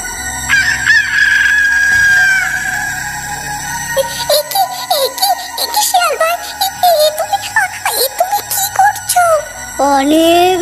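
A cartoon hen squawks and cackles loudly as a fox grabs it by the neck, with shrill wavering cries repeating in bursts over a bright musical backdrop.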